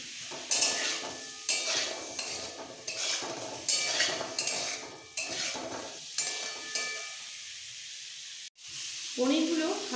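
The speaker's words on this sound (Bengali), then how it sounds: "পনিরগুলো হালকা ভাজা হয়ে গেছে," Paneer cubes frying in a kadai with a little salt, a busy close sizzle with repeated spatula stirs and clinks against the pan, pausing briefly before a final burst of frying.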